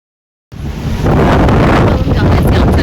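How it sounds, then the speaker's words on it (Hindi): Strong wind roars across the microphone on a Bangkok street, starting abruptly after a brief silence and then blustering loud and steady without pause. "यहाँ पे देखो कितनी तेज़ हवा चल रही है"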